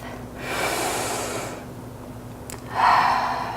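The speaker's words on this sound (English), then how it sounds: "Take in one more full breath." Deep breathing during a yoga session: a long, airy inhale, a pause, a brief sniff, then a stronger exhale, close and fairly soft.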